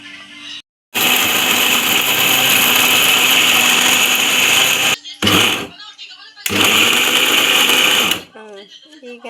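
A mixer grinder jar whirs loudly and steadily for several seconds, stops briefly, gives a short burst, then runs again before cutting off, close and alone.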